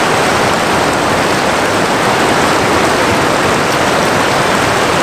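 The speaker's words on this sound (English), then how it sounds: "It's got some nice little rapids off this little slick rock" Small river rapids rushing over slick rock, a loud, continuous broadband roar of churning water up close, steady and unbroken with no voices.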